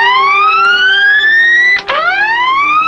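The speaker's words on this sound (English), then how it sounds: "Sound the alarm." A loud, continuous rising siren-like alarm wails steadily aboard a submarine after a short circuit and explosion in the after battery, briefly cutting out and restarting its upward sweep near the end.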